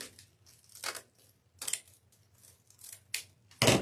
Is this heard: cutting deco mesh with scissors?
yes